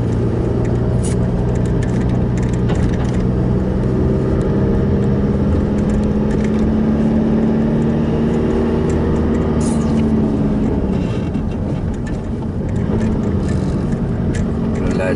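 Car driving along a road near Cobh, a continuous low engine and road rumble heard from inside, with a voice speaking over it throughout.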